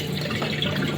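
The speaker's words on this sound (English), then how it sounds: "I'm gonna take the water out" Rinse water poured off soaked white rice, a short, close, steady splashing pour of liquid.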